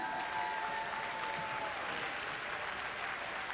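A crowd claps in steady, dense applause for the volunteers at a district event, filling the room without a break.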